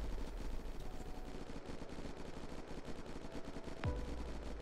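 Rapid automatic gunfire in the survival game Unturned during a base raid, a dense continuous rattle of shots filling the clip at close range, with one sharp swept tone near the end.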